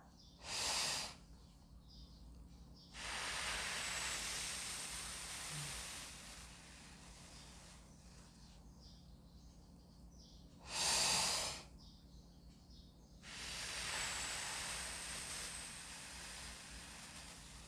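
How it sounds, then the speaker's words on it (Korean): Slow, controlled breathing exercise as preparation for bel canto singing: two short sharp inhalations alternate with long, steady hissing exhalations, close and fairly quiet, with no talking. "짧게 숨을 쉬고 내보내는 것은 천천히 내보내는 것입니다"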